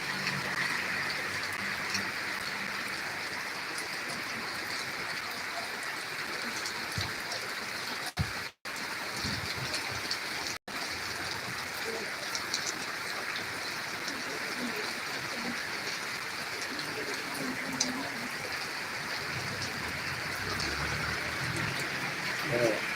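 Heavy rain pours down steadily after the wind has died down, a dense continuous hiss of falling water and runoff that stays loud and even throughout, broken only by two brief cutouts.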